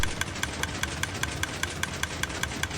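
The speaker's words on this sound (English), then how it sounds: "we should hear the dispensers make a different sound" Minecraft dispensers fire bone meal in a video game, making rapid, evenly spaced clicking bursts over a dense, scratchy noise bed. The sound is continuous and moderately loud with no talk.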